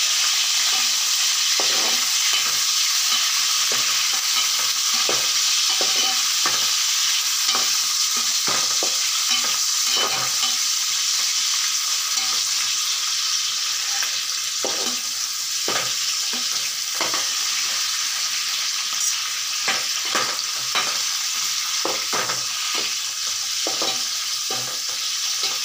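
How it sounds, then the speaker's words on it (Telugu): Green chillies fry in hot oil in a home kitchen while being stirred, a steady dense sizzle with repeated scraping strokes of the spoon throughout, loud and close with no voices. "పచ్చిమిర్చి వేసి నూనెలో వేస్తున్నానండి."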